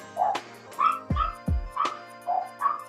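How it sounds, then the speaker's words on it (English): Several dogs bark repeatedly in short, sharp yips and barks, about seven in a loose rhythm, close and clear with no talking. "my dogs are barking. Why are they barking?"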